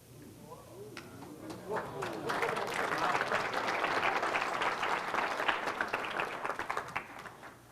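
Audience applause after a magic effect by Tommy Wonder, swelling from scattered claps into sustained, dense clapping across a full hall, holding loud and steady before tapering slightly at the end.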